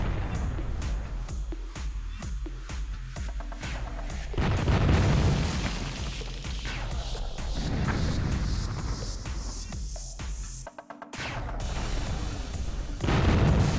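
Bertha artillery in the strategy game Zero K firing and exploding amid a busy battle, with repeated heavy booms and sharp pops, dense crackling detonations layered together, and a brief gap near the end.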